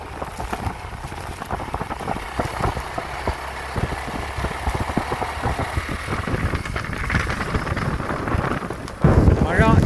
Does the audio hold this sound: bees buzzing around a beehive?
no